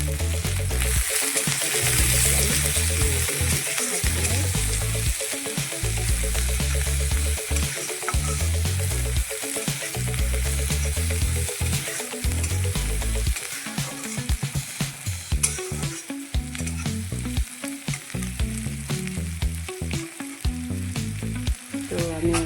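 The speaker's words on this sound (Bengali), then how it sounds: "এখানে পেঁয়াজ আর তেলে ভাজা হয়ে গেছে" Onions fry in oil in a pan for a dried fish dish. A loud, continuous sizzle runs throughout, with frequent clattering stirs of a utensil against the pan.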